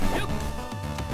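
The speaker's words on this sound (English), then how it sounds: "my dog's howling at something" A pet dog barks and yips in a few quick, sharp bursts close by, mixed with video game music playing in the background.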